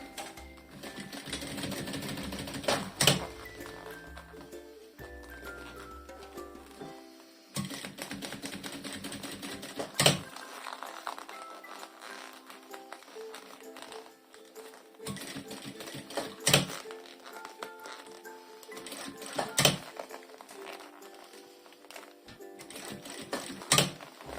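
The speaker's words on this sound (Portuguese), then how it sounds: "E agora é só costurar a toda a volta" A sewing machine runs in long, steady bursts with brief pauses, stitching bias binding cut from lining fabric around a fabric toiletry bag; the mechanical whir is loud and close with no talking.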